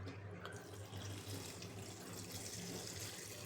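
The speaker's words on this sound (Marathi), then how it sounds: "ह्यामध्ये आता आपल्याला पाणी घालायचं आहे" Water pouring steadily into a cooking pot or pressure cooker holding chopped colocasia leaves and green chillies, a faint continuous rushing flow with no talking.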